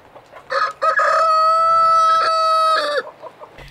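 Rooster crowing among chickens kept at home, one loud close cock-a-doodle-doo with a stuttered start and long sustained middle, alone with no voices, fading into quiet clucking at the end.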